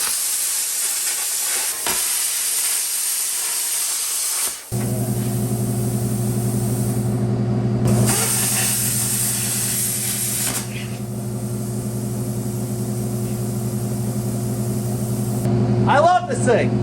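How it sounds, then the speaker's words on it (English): A plasma cutter cuts sheet metal for wing walls on a build. A steady hiss starts a few seconds in and runs nearly to the end with a brief break, loud and close. "For this cut, I'm gonna go with the plasma cutter because it's clean, quick, and no consumables."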